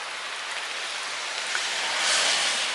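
Rain falling outdoors, a loud, steady hiss of dense drops hitting surfaces that swells slightly near the end.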